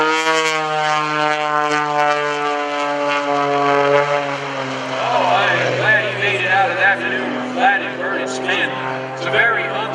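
An aerobatic airplane performs at the Greenwood Lake Airshow in 2014, its loud propeller engine droning and shifting in pitch as it tumbles through maneuvers, close and continuous.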